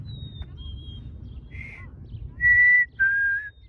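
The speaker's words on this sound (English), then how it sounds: "Wow, that's a nice sound of a bird." A bird's clear whistled call repeats several times, short tonal notes, the last two louder and sustained, over a low rumble of background noise on a trail in Colonel Samuel Smith Park.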